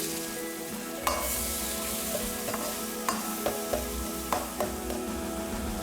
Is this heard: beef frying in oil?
yes